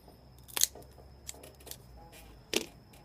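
An Alec Bradley Spirit of Cuba Robusto cigar being cut, with a few short, sharp snips and clicks close by in near silence, the clearest at the start and end.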